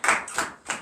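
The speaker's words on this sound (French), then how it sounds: "Donnez une acclamation à notre Seigneur." A church congregation at morning prayer clapping in acclamation, three quick bursts of hand claps in under a second, fairly close and with no talk.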